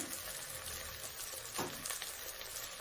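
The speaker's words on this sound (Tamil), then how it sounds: "இப்படி போட்டு வதக்கலாம்" Quiet, steady sizzling of chilies frying in hot oil for mutton biryani, with a brief stirring scrape in the middle.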